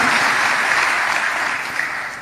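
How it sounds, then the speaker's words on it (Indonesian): Loud, dense applause from a church congregation during a sermon, sustained clapping from many hands heard close and continuous without any speech over it. "Beri tepuk tangan yang meriah bagi Tuhan Yesus."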